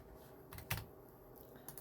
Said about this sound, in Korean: 키보드 버튼 누르고 난리 났네